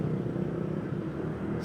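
Road traffic heard from a Honda Giorno scooter in Sariaya, a steady low engine rumble and road roar, close and continuous without clear individual passes.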